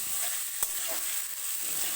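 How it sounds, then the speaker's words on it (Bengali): Onions frying in a pan for Bengali mutton curry, stirred steadily, giving a constant bright hiss of sizzling oil with faint scraping strokes and one sharp tap, close up and without speech. "এইভাবে নাড়তে নাড়তে পেঁয়াজটাকে ভাজতে হবে"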